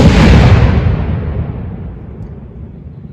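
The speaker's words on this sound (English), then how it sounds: "People are shooting fireworks." A firework goes off nearby outdoors with a single loud boom that rumbles and slowly fades over a few seconds.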